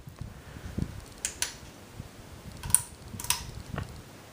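A 52-inch Hunter Augusta II ceiling fan runs on low speed with its light on, making a faint, soft hum with a few scattered light clicks and taps.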